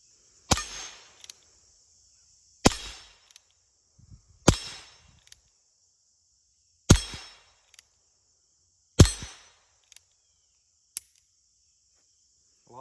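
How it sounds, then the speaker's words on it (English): Subsonic .22 LR short rounds fired from a revolver crack out in five sharp, fairly quiet reports spaced about two seconds apart, each followed by a faint clink, over a thin high insect-like whine. "For the subsonic shorts, I'm going to shoot from the 7-yard spot."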